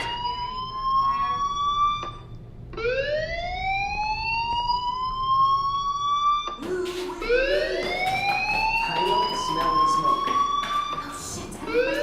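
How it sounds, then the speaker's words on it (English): In the video game Life Is Strange, a school fire alarm wails in repeated rising electronic sweeps that start, pause and restart, growing busier and louder in the second half. "do you hear that fire alarm?"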